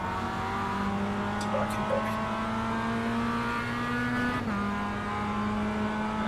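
Mazda MX-5 race car in iRacing at the Charlotte Roval, engine holding a steady drone with a gentle pitch rise then a dip as it corners through a chicane, continuous and close, with someone talking briefly over it.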